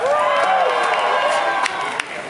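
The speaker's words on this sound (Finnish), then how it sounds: "Nyt mä haluaisin kuulla sen yleisön, mikä meteli siitä lähtee" A big festival audience at the Jurassic Rock 2013 rock concert in Mikkeli cheers, whoops and shouts loudly and continuously. The roar dips slightly toward the end.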